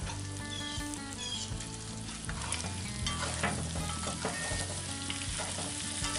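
Floured shrimp with chives and oyster mushroom sizzle and fry in a cast iron pan, a dense continuous crackle with occasional stirring scrapes, close and steady throughout.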